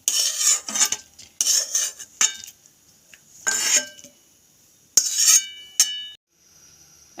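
Steamed broccoli tipped from a kadai into another pot, a series of metallic scrapes and clatters in short bursts, close and fairly loud, with quiet gaps between.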